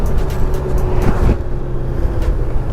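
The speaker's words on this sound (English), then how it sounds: "I'm going to check out that downshifting again because I am coming up here to a stop." A 2020 Honda Gold Wing motorcycle downshifting as it rolls to a stop, a steady low engine drone with brief shifts in pitch, heard up close with wind rush throughout.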